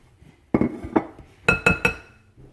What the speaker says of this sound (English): I didn't mean to bang the glass bowl in your ear